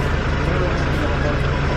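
A rented van's engine idles with a steady low rumble, close and continuous under faint background noise.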